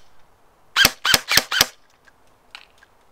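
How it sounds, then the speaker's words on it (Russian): Four quick single shots crack from a nylon-bodied Arcturus airsoft gun, evenly spaced within about a second, then a faint click follows in an otherwise quiet outdoor setting. "Несколько одиночных выстрелов."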